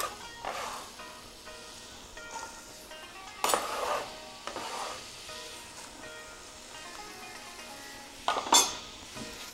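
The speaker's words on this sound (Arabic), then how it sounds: "زيت حمى راح نخلي البصل" Onion sautéing in hot olive oil in a large pan, a soft hiss with occasional louder surges of sizzling and light clatter from the pan.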